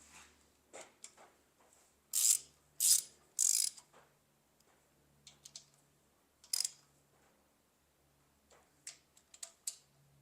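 Ratchet wrench snugging camshaft retaining bolts treated with thread locker on a Ford 302 V8 engine build: short bursts of loud clicking ratchet strokes, a cluster of three early and scattered shorter clicks later, close and with no talk.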